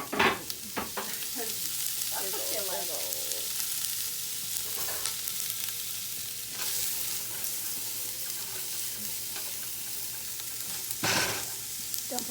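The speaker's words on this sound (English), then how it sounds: "Ooh, listen to that sizzle." Chicken and rice soup ingredients sizzle and fry in a pot with steady stirring, a continuous crackling hiss running through the whole stretch while people chat nearby in a home kitchen.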